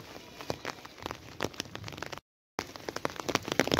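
Rain falls on a village in Pakistan, a dense, close patter of drops striking surfaces with scattered sharper taps. The sound cuts out briefly near the middle, then continues.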